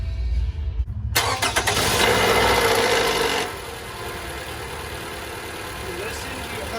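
A 2015 Toyota RAV4 engine cranks and fires after a silent pause, revving loudly for a couple of seconds before dropping to a steady, quieter idle.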